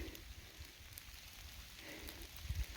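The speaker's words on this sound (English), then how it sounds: "it's raining on us" Soft, steady rain patters on surfaces nearby on a mountain hiking trail, with a few dull thumps of drops hitting something close by.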